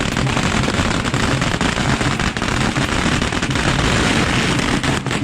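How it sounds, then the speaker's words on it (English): A dense, continuous barrage of crackling bangs and booming blasts from fireworks, loud and unbroken throughout. "the loud sounds of the fireworks"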